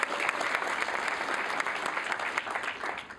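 Audience applause at an awards ceremony for student TV productions, a steady dense wash of many hands clapping that fills the whole stretch at even loudness with no voices over it.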